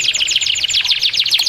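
A canary sings a rapid, bright trilling song, continuous high chirps and warbles close by, with no other sounds.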